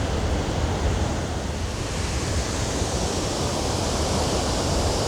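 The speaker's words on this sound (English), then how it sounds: "This is the closest you get to the falls." A waterfall on a river in Ottawa pours in a steady, broadband roar, loud and continuous without a break, with no voices over the rushing water.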